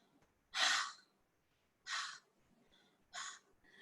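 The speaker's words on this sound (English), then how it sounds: "put your hands on your chest and breathe out" Three slow, breathy exhalations spaced evenly a little over a second apart, soft and close in an otherwise quiet room.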